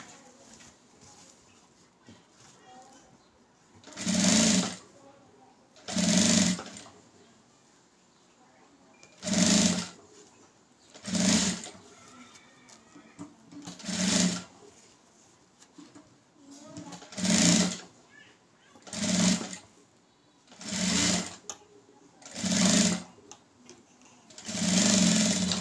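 A sewing machine double-stitches the lining of a blouse in about ten short, close bursts of rapid whirring, separated by quiet pauses with faint background sounds.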